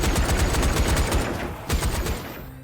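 Gunfire in the VR zombie shooter Zombie Army VR, a loud rapid burst of repeated shots in a fast rhythm, with a brief gap and then more shots before it cuts off.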